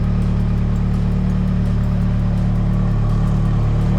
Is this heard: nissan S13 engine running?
yes